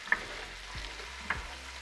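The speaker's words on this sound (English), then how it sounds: "then saute your veggies in that butter" Vegetables sautéing in butter over a low flame for chicken noodle soup give a soft, steady sizzle, close and quiet, with a couple of brief utensil clicks and no talking.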